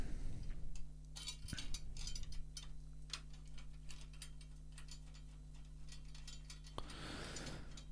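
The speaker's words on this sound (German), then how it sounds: "Und dann kannst du alle Schrauben fingerfest anziehen." Tension screws on a snare drum are turned finger-tight with a steady run of small ticking, ratchet-like clicks, close and fairly quiet, over a constant low hum.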